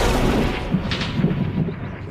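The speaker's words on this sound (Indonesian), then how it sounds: "Dan ia pun menembak sniper musuh sampai modar." A sniper rifle fires against an enemy sniper in a snowy battle, heard as a dense, muffled heavy boom with rumbling low-end noise that fills the short stretch, loud and close, with no talking.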